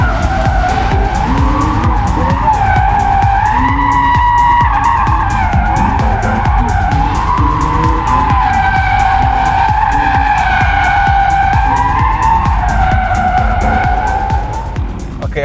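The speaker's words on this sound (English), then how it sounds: "I needed to warm the tires a bit because they were a bit cold" Audi RS e-tron GT Performance tires squealing and skidding as they are warmed on cold pavement, a loud continuous wavering screech with rising and falling pitch over electric drive noise.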